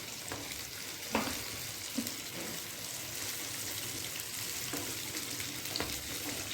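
Chicken momos fry in hot oil with a steady, dense sizzle and crackle lasting several seconds, broken by a few faint clinks. No one speaks.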